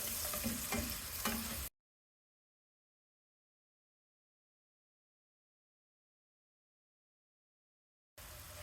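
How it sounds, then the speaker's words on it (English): Onions sizzle in a pan as a spoon stirs them to glaze, a short burst of frying and scraping that cuts to silence before the sizzle briefly returns. "Stir and glaze the onions."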